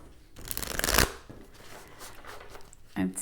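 Tarot cards are shuffled in a brief, close riffling burst, followed by a soft snap as a card is drawn. A voice talks nearby.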